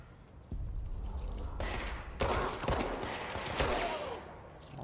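Gunfire from the video game Control, a few bursts of shots breaking out over a steady noisy backdrop, fairly loud and close, with sharp attacks around the middle and latter half.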